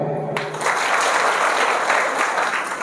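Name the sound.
audience applause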